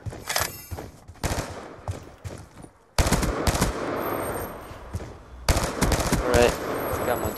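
Video game gun firing in bursts of rapid shots, loud and close, with short pauses between volleys and a brief quiet gap before the firing resumes.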